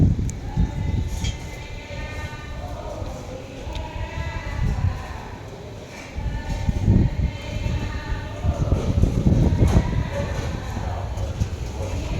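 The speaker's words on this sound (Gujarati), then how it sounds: "એમાં મેટ્રો જો કેટલા સરસ" A metro train rumbles along steadily with a rising, rolling roar and rhythmic clatter, close by and fairly loud throughout.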